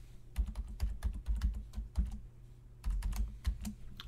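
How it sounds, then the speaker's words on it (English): A password being typed on a computer keyboard: rapid, uneven bursts of close keystrokes, a short pause, then another quick run of clicks, with no voices. "Did I mistype the password twice?"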